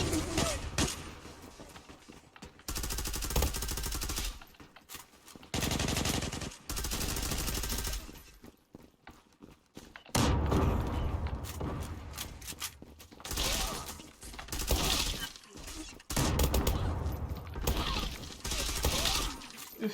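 Gunfire in the online shooter game Zula comes in repeated loud bursts of automatic fire with short gaps, mixed with in-game impacts, while players talk excitedly over it.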